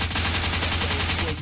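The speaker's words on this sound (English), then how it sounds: "I don't know if you can hear my sound effects, but I got some gunshots" Rapid, dense gunfire rattles in a continuous burst, loud and close, like automatic weapon sound effects.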